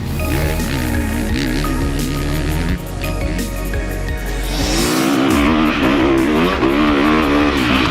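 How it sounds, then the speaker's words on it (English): A KTM 350 four-stroke motocross bike ridden on a track, its engine droning loud and continuous with rising and falling revs, shifting pitch partway through as the rider works the throttle. "I'm on the 350, the middle child in the KTM 4-stroke range, and traditionally my favourite machine of the bunch."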